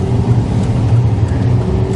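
Inside a car on the move, a constant low engine drone and tire rumble fill the cabin at an even level, with no voices.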